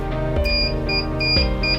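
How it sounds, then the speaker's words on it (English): A Dahua NVR alarm buzzer set off when a reed switch contact opens, repeating loud electronic beeps in a steady pulsing pattern over a humming tonal background. "So once the door opens, it'll set the alarm off"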